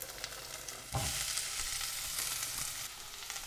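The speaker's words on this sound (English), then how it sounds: "I'm going to drop in some oil, and that's about just over a tablespoon of oil. Swirl that around, and then in go my onions." Onions and peppers hit about a tablespoon of hot oil in a pan with a loud sizzle that flares up suddenly and then holds steady, with soft scraping of a wooden spoon stirring underneath.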